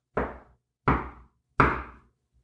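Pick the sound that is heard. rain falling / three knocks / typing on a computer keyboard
three knocks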